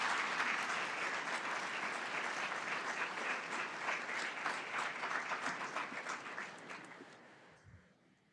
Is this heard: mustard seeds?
no